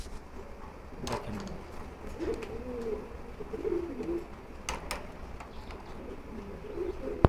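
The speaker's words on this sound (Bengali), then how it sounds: "খুব ভালো একটা কোয়ালিটি কবুতর এটা গ্রিজেল।" Grizzle pigeons coo repeatedly in low, throaty phrases at moderate distance, with a few sharp clicks and rustles over a steady background hum.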